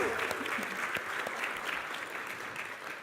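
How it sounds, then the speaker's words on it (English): A congregation at a Shavuot morning confirmation service applauds the confirmation class of 2022, a full, steady burst of clapping from many people that tapers slightly near the end. "Let's give them a round of applause."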